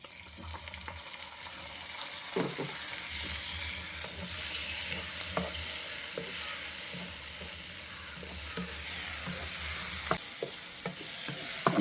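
Onions and tomato frying in a pan for a prawn curry, a steady close sizzle with occasional soft stirring scrapes running throughout without a break.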